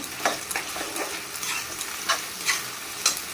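Onion with ginger and garlic frying in a pan for spicy chicken curry, a steady close sizzle with several sharp scraping strokes of a spatula stirring at irregular intervals, no voices.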